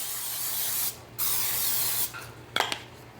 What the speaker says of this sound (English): I would spray my dish so nothing sticks